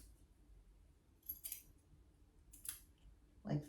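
Scissors trimming Bon Clay costume fabric, a few quiet separate snips spaced about a second apart in a hushed room, with a slightly louder handling clatter at the end.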